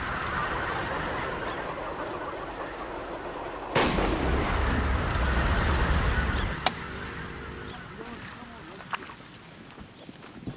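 At night, a net launcher fires to trap a flock of Baikal teal ducks. It makes a sharp, loud bang, then a second crack a few seconds later, while the ducks call and honk around it and a voice talks.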